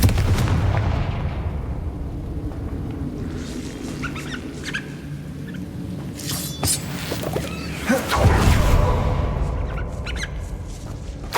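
In Hogwarts Legacy, the Confringo spell sets off blasts heard as several loud booms and crackling bursts over a rumbling game backdrop, with a stronger explosion near the end and no talk.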